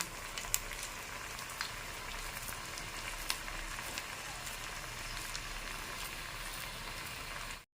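Spinach vada (keerai vadai) frying in very hot oil: a steady, dense crackling sizzle with scattered brighter pops, continuous and fairly close throughout.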